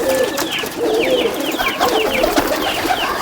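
Pigeons cooing close by in a loft where fancy flying breeds are kept, repeated soft throaty coos overlapping steadily with a few faint chirps.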